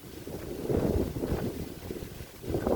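Steady wind gusts across open rice fields, a fairly faint, rushing roar that swells and eases with microphone buffeting and no talking.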